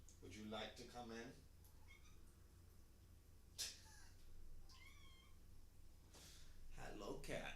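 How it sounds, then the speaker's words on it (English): Hera, a small cat shut behind a door, gives several rising, plaintive meows, some doubled and some drawn out, sounding faint and a little distant in a quiet room, with gaps between the calls. "she's meowing because she wants to get let in"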